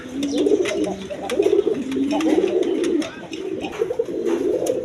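Indian pigeons with black-tipped wings coo repeatedly up close, overlapping rhythmic calls sounding throughout, with soft clatter in the background.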